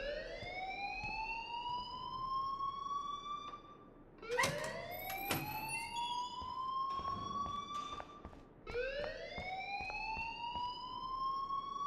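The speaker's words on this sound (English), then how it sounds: "please turn off that alarm since that's your job" An alarm rings in the video game Life is Strange, a rising electronic siren-like wail that sweeps upward three times, loud and close, with brief clatters between sweeps and no talking.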